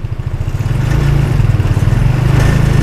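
A new 2022 200cc UTV engine revs as the throttle opens, a loud pulsing mechanical drone building in strength after the first second and holding steady close by.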